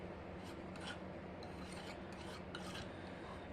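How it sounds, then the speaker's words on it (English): A palette knife scraping acrylic paint across a canvas, a quiet, close, continuous rasping rub with a few sharper scratchy strokes. "I'm just kind of scraping it"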